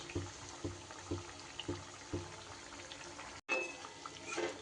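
Thekua dough pieces fry in hot oil with a soft, steady bubbling crackle, broken by a few regular clinks as the pieces are turned, then a brief cut and a slightly louder stretch of sizzling.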